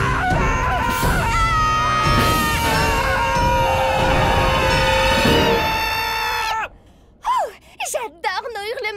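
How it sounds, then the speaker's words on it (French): Cartoon characters scream together in the morning in an animated children's series, shrill wavering voices holding long cries for several seconds, then breaking into short gasps and whimpers. "J'adore nos hurlements du matin!"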